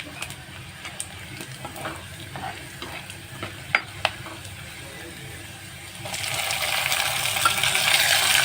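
Chopped tomatoes dropped into a pan of fried onions, with scattered clinks and scrapes of a spoon stirring before a loud, steady sizzle swells up and continues.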